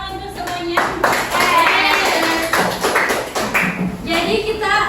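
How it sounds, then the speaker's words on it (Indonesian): Classroom of students applauding together, a dense burst of hand claps that fades and swells, with voices mixed in over the clapping. "Tepuk tangan untuk semuanya."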